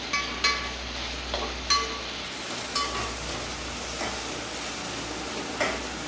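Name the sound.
stirring garlic chutney masala in a pan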